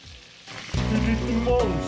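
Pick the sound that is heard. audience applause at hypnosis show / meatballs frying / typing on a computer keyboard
meatballs frying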